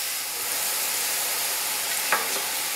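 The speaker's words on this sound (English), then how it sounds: "And sauté for about 4 minutes until the onions are translucent." Onions and leeks sautéing in oil, a steady close sizzle with a soft stirring scrape near the end, no voices.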